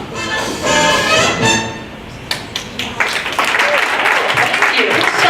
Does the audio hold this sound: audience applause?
yes